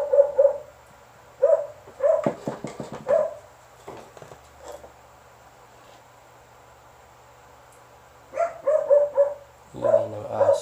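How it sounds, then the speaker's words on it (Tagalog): A dog barks in short bursts of two or three, pausing between volleys, fairly close, with a faint steady hum underneath. "Ingay ng aso."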